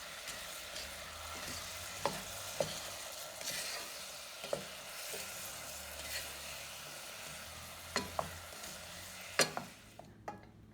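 Cinnamon apples cooking in a pan over medium heat, a faint, steady sizzle broken by occasional soft clicks and taps of a stirring utensil.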